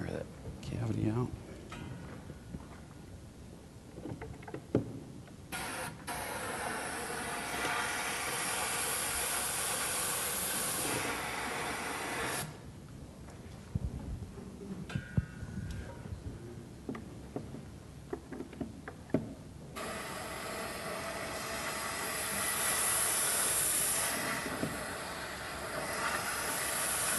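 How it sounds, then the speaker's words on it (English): Compressed air blasts into a window cavity during a minimally invasive repair, coming as loud hissing bursts in two long stretches separated by quieter gaps, with someone talking throughout. "Now we have a little bit of compressed air here, pretty simple compressed air. We'll try to blow that chamber out, or that cavity out."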